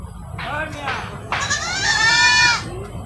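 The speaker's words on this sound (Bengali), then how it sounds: "ছাগল ডাকে।" Goat bleating on a village road near a graveyard, several wavering bleats close by, the last one long and loud, over faint background noise.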